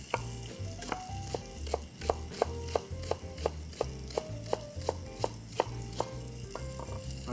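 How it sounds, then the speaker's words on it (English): A knife slicing through leeks on a cutting board, crisp regular chops about twice a second, close and distinct over a soft musical background, with no talking. "Let's go ahead and cut our leeks."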